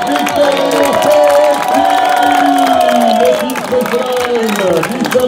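A roadside crowd cheers and applauds the winner of a Coupe de France cross-country mountain bike race at Marseille Luminy, a loud continuous roar with whistles and shouts beneath an announcer talking.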